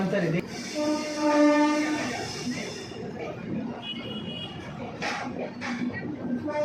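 A train pulls into Jasidih station with a long, loud horn blast at the start, then the rumble and squeal of the carriages slowing to a stop, with short bursts of voices near the end.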